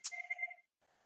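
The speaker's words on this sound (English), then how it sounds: "Sorry, my phone keeps ringing." A phone rings once with a bright electronic chirp, fairly close, during a commission meeting, followed by a short gap and a faint tail of sound.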